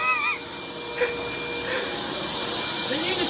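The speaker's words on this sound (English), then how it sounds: "Let's get another vacuum in here." A vacuum cleaner sucking up water during a plumbing flood runs as a loud, steady roaring whine with excited voices and shouting over it.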